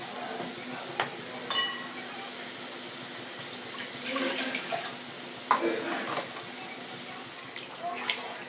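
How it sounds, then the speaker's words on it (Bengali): Water is poured into a pan of fried masala while cooking paneer with papaya, giving soft splashing and sizzling in short bursts, with a few light clinks of utensils. "এবার আমি এতে জল দিয়ে দেব।"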